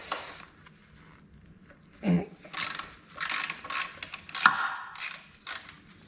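Ratchet wrench loosening the steering stem bolts on a Kawasaki 250TR motorcycle during front fork work: a few short clicking bursts and metallic turns, close and fairly quiet, with pauses between strokes and no talk.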